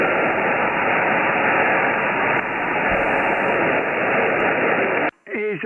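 Loud, steady hiss of static fills a crowded ham radio band, a dense broadband rush that barely changes. It cuts off abruptly near the end, and a brief warbling tone follows.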